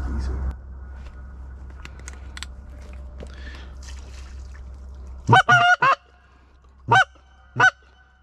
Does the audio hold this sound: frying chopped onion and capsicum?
no